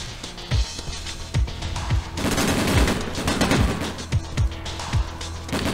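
Repeated gunshots from the video game Breakdown, sharp low-thudding bursts scattered across the clip with a denser volley in the middle, loud and close over a steady background rumble.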